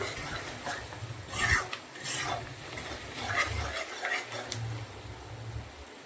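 Onion being sautéed and stirred into spice paste in a pan, close rasping stirs and scrapes over a soft sizzle, with irregular strokes and no voices.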